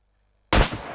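One sharp, loud sniper rifle shot cracks out against a turret in the video game SCUM, striking after half a second of silence and trailing off in a short decay.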